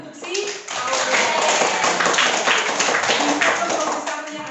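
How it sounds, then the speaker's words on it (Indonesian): Clapping for a pupil named Aurel fills a classroom during an academic supervision lesson, with steady, fairly loud hand claps running the whole time and young voices mixed in. "Oke, tepuk tangan untuk si Aurel."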